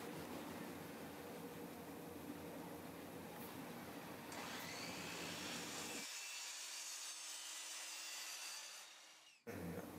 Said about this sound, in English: Next, I'm cutting a 2-inch section of 2-inch PVC pipe.